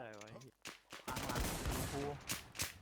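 Rapid bursts of gunfire from the WarZ video game crackle in quick succession, loud and close, following a brief spoken voice at the start.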